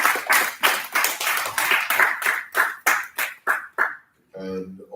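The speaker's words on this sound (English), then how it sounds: "Let's give them all a round of applause." At a medical college graduation ceremony, loud, close clapping bursts in a rough rhythm for about four seconds, then stops and a voice begins speaking.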